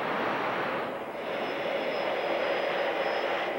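Steady, loud airplane engine roar inside a Thunderbird aircraft during an air refueling flight, a broad continuous drone with a faint high whine, holding evenly throughout with no talk.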